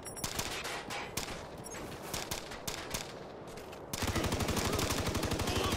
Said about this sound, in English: Yeah, I can hear their gunshots.